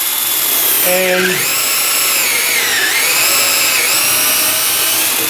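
A power drill bores a hole in a workpiece set in a jig, loud, close and continuous, with the motor pitch dipping twice as it bites; a voice speaks briefly under it.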